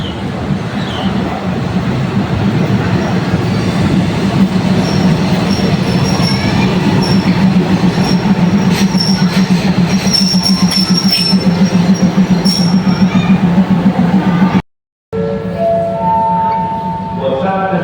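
Express train 75 leaving Udon Thani station, a loud continuous rumble of railcars with rolling wheels and high squealing tones that runs almost the whole clip, cut briefly near the end before resuming.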